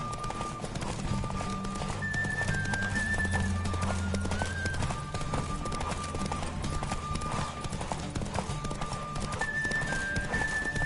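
Rapid hoofbeats of a horse in The Witcher 3 gallop continuously over a busy game soundscape, with music-like tones and occasional whinnies in the mix.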